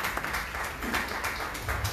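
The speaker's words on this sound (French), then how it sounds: "sous vos applaudissements" A crowd applauds at a higher-education and careers fair as a colonel is called forward, brisk uneven clapping with a few sharper individual claps standing out, moderately loud and unbroken.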